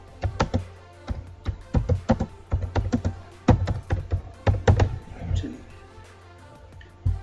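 Typing on a computer keyboard while working with text in Photoshop, a close series of quick, irregular clicks and taps in bursts, with a short pause and a few final keystrokes over a low hum.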